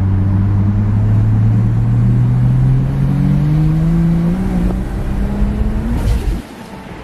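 A turbocharged Ford Falcon accelerates hard under high boost, its deep engine note climbing steadily in pitch for about six seconds, loud and close, before cutting off sharply.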